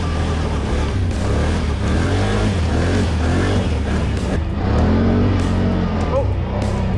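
A 2021 Can-Am Outlander 850 XT ATV revs hard as its wheels spin in deep snow, a loud, close, continuous engine roar that swells slightly near the end.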